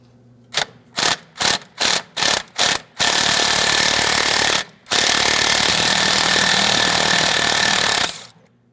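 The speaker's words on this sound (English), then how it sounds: "We can remove our 14mm bolt before moving our way up towards our brake line next." A 14mm bolt on the front strut of a 2003-2008 Toyota Matrix is removed with a power impact tool: six short rattling bursts, then two long sustained hammering runs, loud and close with no talk.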